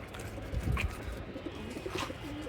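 A Pakistani teddy pigeon gives soft, low coos, faint and close, with a few short murmurs over a quiet background.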